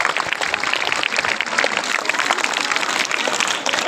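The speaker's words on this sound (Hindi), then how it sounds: "जोरदार तालियां इन बच्चों के लिए।" A crowd at a school ceremony honoring top-ranked students applauds loudly and steadily, with dense, continuous clapping that fills the hall from start to finish.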